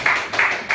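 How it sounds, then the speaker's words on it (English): An audience claps at a summit event, a quick burst of hand claps over less than a second, near and fairly loud, with no talk. "Can the audience give them a big clap?"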